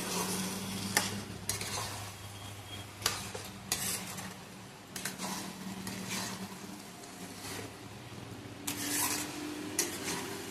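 Marinated chicken sautéed with spice paste in a pan for a chicken curry, a steady close sizzle broken by repeated scrapes and clinks of a spoon stirring against the metal, with no talking.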